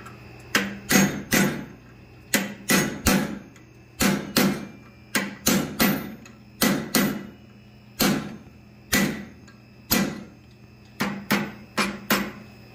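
Blacksmith striking hot steel held in a vise with a fuller while forging an alligator project, sharp ringing hammer blows in uneven bursts of two to four, loud and close, with short pauses between groups.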